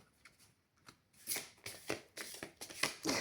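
Playing cards are shuffled up close in several quick riffling bursts, crisp rustles growing louder over a few seconds.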